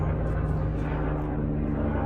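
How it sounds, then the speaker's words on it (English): An airplane passes overhead as a steady, broad low drone that fills the whole clip, heard outdoors while a Vauxhall Corsa D has its engine oil and coolant checked. "Sorry about this airplane noise."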